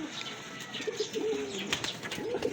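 Racing pigeons in a breeding loft coo softly at middle distance, a few low rolling calls with faint chirps behind them.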